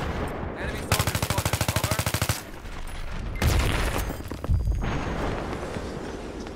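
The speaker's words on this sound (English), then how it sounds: "now the fucking heavy artillery comes here" Battlefield 3 combat on the Armored Kill map: a rapid machine-gun burst rattles for about a second and a half, followed by two heavy artillery or tank blasts that boom loudly over constant battlefield rumble.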